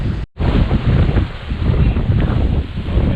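Strong, steady wind of around 20 knots buffets the microphone aboard a sailboat racing at about 7 knots off the Florida Keys, with rushing water and hull noise beneath a continuous loud roar, briefly dropping out near the start.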